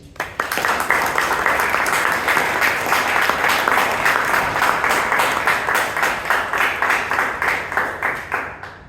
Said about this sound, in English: Can we have a huge round of applause for every single person who came on stage?